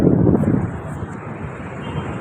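Steady wind rushing across the microphone in Cubao, Quezon City, Philippines, stronger and gustier at first, then settling into a constant low roar with faint distant hiss.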